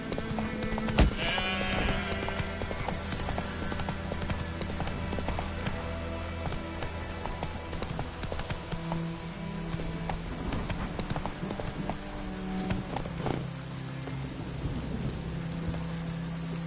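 Hooves of the horse Roach in The Witcher video game clop steadily at a gallop, a close rhythmic beat over ambient wind and game sounds.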